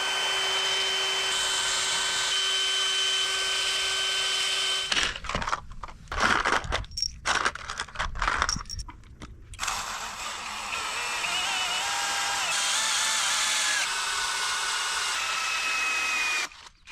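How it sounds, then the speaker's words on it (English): A power drill driving screws into a bracket with a 3/8 inch socket, whirring in steady bursts, pausing and restarting with short rattling stops in between, close by and with no voices. "used a 3/16 inch drill bit to make the pilot holes and then a 3/8 inch socket to get the screws to go in"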